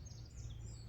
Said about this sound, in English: You can hear the birds in the trees.